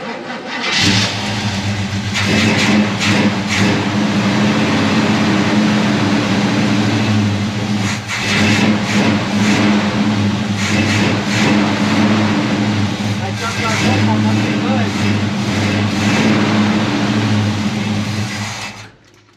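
An engine that was formerly stuck cranks and starts running on an untouched junkyard carburetor, then idles roughly for most of the span with uneven revving, close and loud, while people talk over it.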